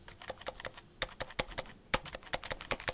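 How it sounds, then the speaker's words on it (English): Repeated keystrokes on an original Happy Hacking Keyboard Pro 2, a compact mechanical keyboard, ring out as crisp, close clicks in an uneven typing rhythm, with several sharper, louder presses among lighter taps. "let's go with the escape key. Original Happy Hacking Keyboard Pro 2."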